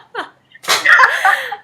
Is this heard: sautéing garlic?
no